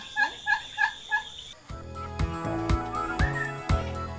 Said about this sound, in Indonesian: Ada beberapa jenis kalkun yang dibudidayakan